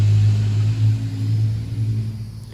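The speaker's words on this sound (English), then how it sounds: "Somebody's driving by." Car passing outside, a loud low rumble that swells at first and then gradually fades over a couple of seconds.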